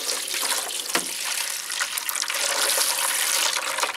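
Water runs from a tap in a steady, close splashing stream, drawn to fill a container for animals, with a brief knock partway through.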